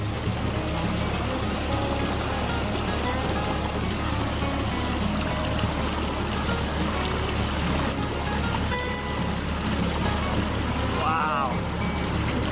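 Heavy, steady rush of a large volume of water pouring into a lake, loud and continuous throughout with a brief faint voice near the end.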